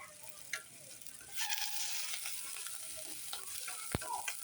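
Curry leaves and prawn gravy fry in a pan with a steady, close sizzle, stirred now and then, with a few sharper spits and crackles along the way.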